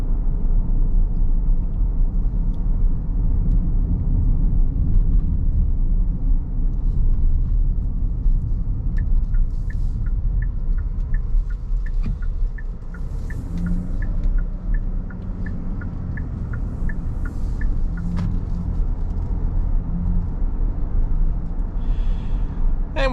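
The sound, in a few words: 2024 Kia Carnival engine and road noise while driving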